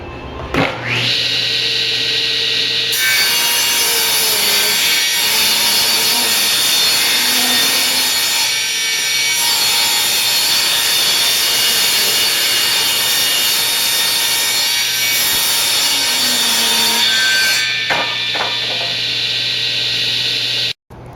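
A power saw rips along the edge of a cedar deck board in one long, loud, continuous cut, its high whine and rasp holding steady for about twenty seconds before spinning down.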